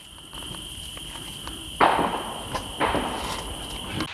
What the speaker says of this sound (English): This time, the enemy uses small arms.